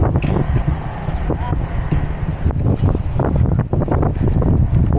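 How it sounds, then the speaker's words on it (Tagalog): Strong wind buffeting a microphone during a bike ride outdoors: a constant loud low rumble and roar with gusty crackles, with a voice talking faintly under it. "Lakas ng hangin."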